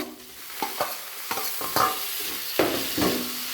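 Spices and chopped tomato frying in oil while being stirred, a steady sizzle broken by several distinct scraping strokes of the spoon against the pan, close and clear with no talking.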